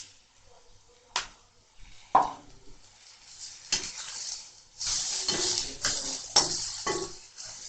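Okra going into a pan of golden-browned onions and being stir-fried for a spicy Tamil ladysfinger poriyal, with several clanking spatula hits and scrapes against the pan and a rising sizzle, close and fairly quiet with no talking.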